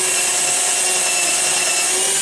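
A powerful drill boring continuously, a dense, loud, steady whine and grinding rasp with no pauses, close up.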